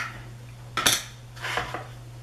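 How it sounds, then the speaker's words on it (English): Plastic case of a blender brush cleanser with a solid soap being opened, giving a sharp click followed by a couple of lighter clacks against a quiet room hum. "let me open up the blender cleanser."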